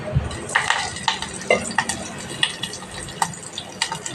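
Green chillies and curry leaves frying in oil over tempering seeds in a pot on a stove, a soft sizzle broken by scraping stirs and light utensil taps, close and moderate.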